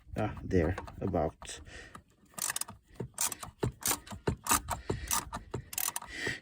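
Ratchet clicking in quick bursts while loosening bolts on a Rover 75 engine during head gasket replacement, close and crisp, between stretches of someone speaking.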